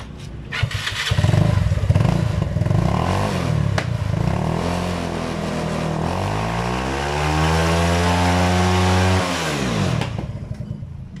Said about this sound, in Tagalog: pumukutok lang kasi kailangan rin itono ang carburetor